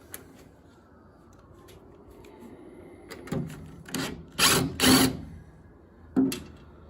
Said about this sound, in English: Well, I got a little wrench here. See if I can break those little nuts loose.